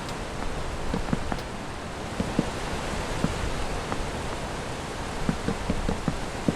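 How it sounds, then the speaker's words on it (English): Hail pelting a roof in modded Minecraft, a steady broadband hiss of dense impacts with scattered sharper clicks standing out throughout, continuous and fairly loud with no talking. "Now it's hailing on the nether roof."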